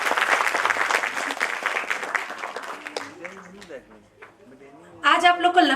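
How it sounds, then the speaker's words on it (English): An audience at a playgroup and nursery annual day function applauds the competition winner in a loud burst that fades after about three seconds, followed by people talking. "Please clap for her"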